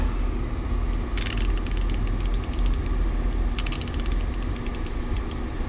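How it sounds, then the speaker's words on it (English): A ratchet wrench fitted with a 12 mm socket clicks in two quick bursts of rapid pawl ticks, close by, over a steady low hum during work on a Subaru STI's rear diffuser and exhaust finishers. "A 12 millimeter socket."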